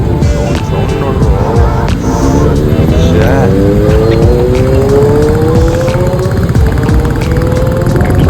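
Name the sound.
motorcycle engine sound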